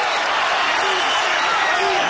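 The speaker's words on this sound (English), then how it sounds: "The crowd comes alive for the first time." Boxing arena crowd at an Evander Holyfield versus Fres Oquendo fight, cheering and roaring as a dense, continuous wall of noise after a hard combination, steady and loud throughout.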